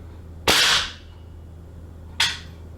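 Two sharp, loud shots from a GHK AK gas blowback airsoft rifle fitted with a W&S steel trigger, spaced nearly two seconds apart, each a crisp pop with a short hissing tail, in a quiet room.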